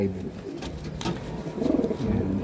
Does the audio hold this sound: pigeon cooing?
yes